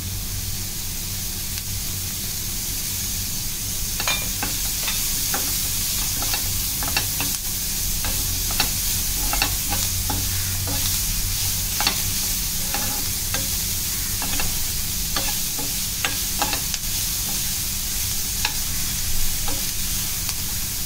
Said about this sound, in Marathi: छान परतून घेऊया.